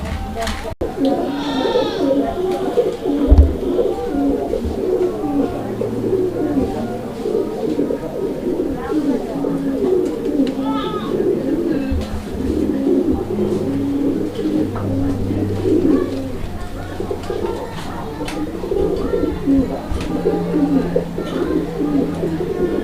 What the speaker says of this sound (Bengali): এটা কি কবুতর এটি হচ্ছে রাজশাহী গিরিবাস